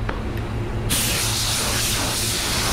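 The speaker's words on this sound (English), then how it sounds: "that's why I use these guns, because of how even they spray" A paint spray gun applying candy red paint hisses on abruptly after a short quiet lead-in, then holds a loud, steady, even spray to the end.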